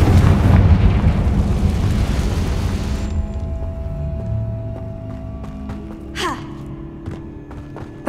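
A Confringo spell explosion in the video game Hogwarts Legacy on PS5, heard as a loud, close blast and deep rumble that fades over a few seconds, followed by a brief swooshing whoosh.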